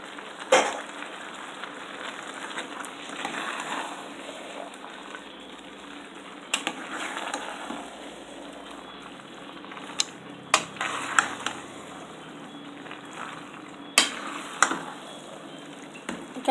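Spaghetti goes into a one-pot beef dish and sizzles with a faint, steady crackle. Occasional sharp clicks and scrapes come from stirring in the pan.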